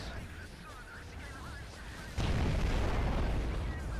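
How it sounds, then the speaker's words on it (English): A howitzer firing in the underwater video game Aquanox sets off a sudden heavy boom partway through, then a dense, rumbling blast that lingers, following a stretch of quieter game noise, with a player's voice nearby. "Fucking howitzer"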